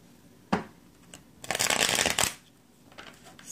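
Tarot cards being shuffled up close: a single sharp snap, then a dense riffling burst lasting under a second, followed by quieter faint shuffling, with no voice.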